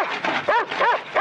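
A dog barks in short yelps from behind a wire fence, close and loud. The barks come in a quick run of whining calls over about a second.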